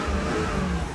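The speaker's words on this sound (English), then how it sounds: "Now accelerate the engine and confirm that the tachometer responds properly" A Subaru SVX engine revs steadily under acceleration during a pre-delivery inspection, a loud, continuous rising drone with no talking.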